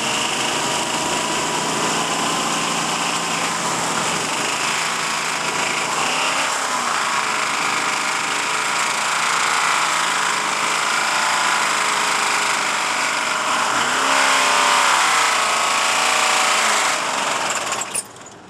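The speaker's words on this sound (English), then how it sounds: "Now the rods are going. It just got a bearing." A strained car engine roars steadily at high revs, rattling and knocking as its connecting rods and bearings fail, then cuts off abruptly near the end as the engine seizes.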